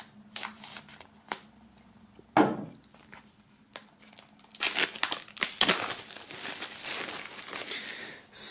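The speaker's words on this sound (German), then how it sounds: "Das ist noch verschweißt. Das heißt, wir werden das Ganze einmal am besten hier unten öffnen." Shrink-wrapped CD album box being opened: sharp scattered crinkles of plastic wrap, a tearing rip, then a busy stretch of crumpling and handling of the packaging, close and moderately loud.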